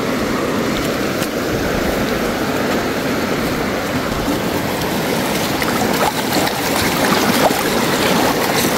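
Steady rushing water of a river flows continuously, a broad, even wash of sound close by, with no voices.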